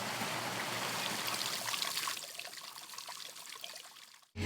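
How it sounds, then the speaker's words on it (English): Water flows steadily along a backyard koi pond stream and waterfall, a dense continuous rushing and trickling that grows slightly softer midway before ending abruptly. "And so we added a stream and a waterfall,"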